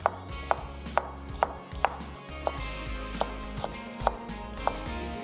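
A knife chops onion into julienne strips on a board for a Punjabi salad, about a dozen crisp, evenly spaced taps over a low background hum.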